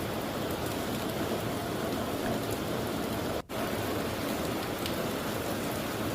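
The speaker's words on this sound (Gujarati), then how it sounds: "ડાંગમાં પણ ભારે વરસાદ જોવા મળી રહ્યો છે।" Heavy monsoon rain in Dang district, Gujarat, pours as a steady, dense hiss without pause, loud and even throughout with no voices.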